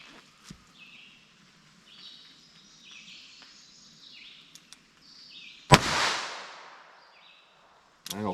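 A single sharp crack from a .22 Long Rifle handgun firing a 40-grain bullet outdoors, loud and close, followed by a brief echoing tail over quiet background insect and bird chirps.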